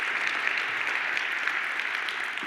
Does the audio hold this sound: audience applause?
yes